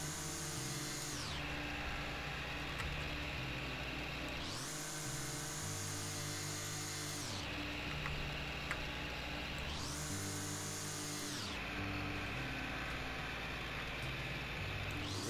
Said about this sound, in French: On vous met la tondeuse, mais bon.